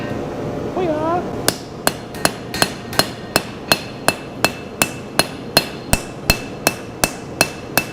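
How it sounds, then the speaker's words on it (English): Steady hammer blows beat a steel knife blank's edge to forge a bevel at about a 35-degree angle, about seventeen sharp, ringing metallic strikes in an even rhythm, loud and close, after a brief vocal sound. "I'm just hitting at like a 35-degree angle across the edge of the piece"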